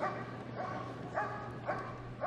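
A police dog barks several times in quick succession during a display at Crufts 2014, sharp yelping barks under a steady low background hum.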